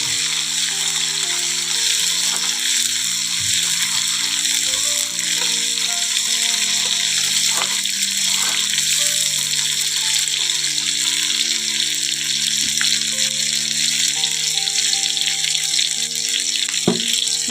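Chopped tomatoes and green chillies fry in a pan for a bhola fish mustard curry, giving a steady close sizzle with scattered scraping clicks from stirring.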